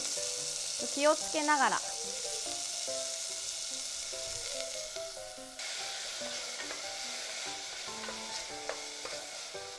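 Carrot, lotus root and burdock stir-fry over medium heat in a pan, with a continuous close sizzle and brief scraping stirs while someone speaks briefly over it.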